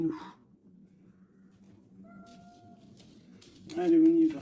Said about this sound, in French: Ça, c'est minou.